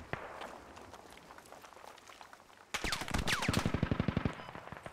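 Bursts of automatic gunfire erupt in a Squad video game battle, starting as a distant crackle and then turning into a loud, rapid string of closely spaced shots.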